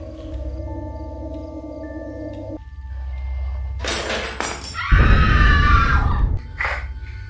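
A child screams in a horror story about guarding a pocong, a sudden loud shrill outburst rising over an ominous droning score with a few clinks and thuds before it.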